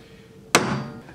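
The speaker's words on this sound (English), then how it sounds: "So if I bash the point of a nail, nice thick nail, through there" A hammer drives the point of a thick nail through a drilled hole in wood, landing as a single sharp, loud, close strike that rings and decays.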